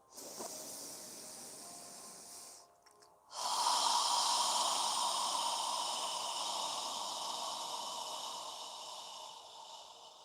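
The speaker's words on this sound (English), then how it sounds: "we're going to inhale through our nose slowly and exhale through our mouth with control, slowly exhaling" Slow, controlled breathing during a yoga session, a long breath drawn in through the nose and released through the mouth, close and steady, with a brief pause before a sustained airy exhale.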